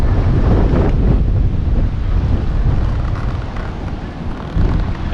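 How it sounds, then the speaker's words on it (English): Strong wind gusts buffet the microphone aboard a sailboat while a boat is being pulled in, a loud steady roar with water and surf noise beneath it, easing slightly before a final gust. "always a gust when you have to pull a boat, Rick."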